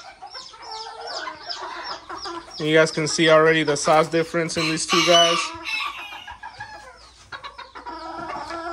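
Barred and brown red bantam cockerels, Old English Game and Azteca bantams, clucking and calling close by in bursts, with someone talking over and between the calls.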